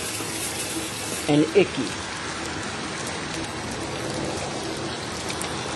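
Water spills steadily from a small waterfall in a garden display of gnome and troll figures, making a constant splashing rush close by, with a voice cutting in briefly over it.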